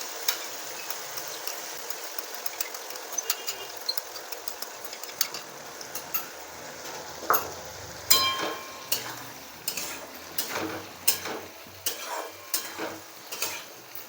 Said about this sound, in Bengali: তারপরে আমি এর মধ্যে টক দইটা সম্পূর্ণ ঢেলে দিচ্ছি।